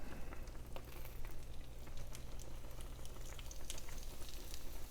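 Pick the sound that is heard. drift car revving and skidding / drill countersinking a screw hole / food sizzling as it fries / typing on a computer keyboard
food sizzling as it fries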